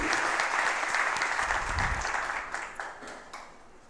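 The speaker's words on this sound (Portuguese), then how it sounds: "Eu queria uma salva de palmas" Audience applause fills a solemn council session in Fortaleza for World Autism Awareness Day, a dense, steady crowd of clapping that carries on for several seconds and eases off slightly toward the end.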